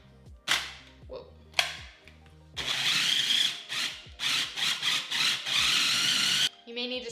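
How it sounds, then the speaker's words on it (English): A food processor blending almond butter and chia seeds for vegan protein bars, a few short loud motor pulses followed by a sustained whirring run of several seconds that stops abruptly, close and loud. "You may need to scrape down the sides depending on your food processor, because almond butter can get a little stuck."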